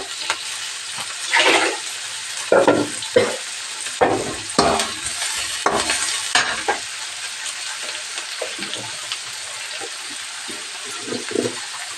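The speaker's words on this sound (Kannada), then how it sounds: "ಕಟ್ ಮಾಡಿರೋ ಟೊಮೊಟೊನ ಹಾಕ್ಕೊಳ್ತಿದ್ದೀನಿ" Chopped onion and tomato frying in a pan, a continuous close sizzle broken by several louder bursts and scraping stirs in the first half, then settling into a softer, steady crackle.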